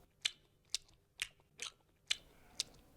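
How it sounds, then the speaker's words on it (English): Foley for a grazing animal chewing its cud in a nature setting: six crisp, separate crunching bites spaced roughly half a second apart, close and fairly quiet, with no voices. "they chew the cud, regurgitating their meal and chewing again to help digest it"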